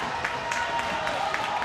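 A high school hockey crowd at a Bishop Guertin vs North game cheers and claps in a sustained, moderately loud roar following a heavy hit in the corner.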